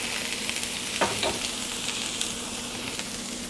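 Red onion and ginger fry in a pan for stewed tofu noodles, a continuous close sizzle with a couple of brief stirring scrapes near the middle, no talking.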